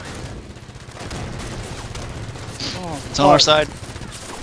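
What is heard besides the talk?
gunfire in the video game Halo 5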